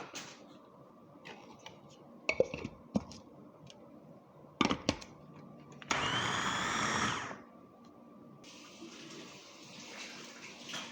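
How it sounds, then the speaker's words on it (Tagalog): A kitchen blender whirs loudly for about a second and a half while kunafa is being made at home, framed by clinks, taps and a faint running-water hiss. "Blender."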